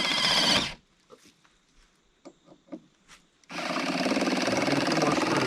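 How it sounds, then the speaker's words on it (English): A power tool drives screws into a tough 2x4, with short, quiet whirring bursts and small clicks between two loud stretches of noise at the start and end. "Okay, screw that on there."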